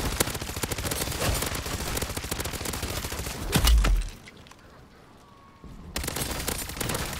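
The FJX gun fires in rapid, loud automatic bursts during a Modern Warfare 3 Zombies match, stopping abruptly for about two seconds before another burst starts near the end.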